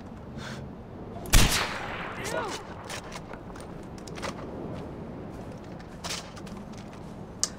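Far Cry 4 video game gunfire: one sharp, loud shot cracks near the start, followed by scattered quieter pops and faint footsteps over a muffled game background.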